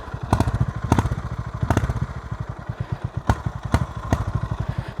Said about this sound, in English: Okay, so the exhaust note,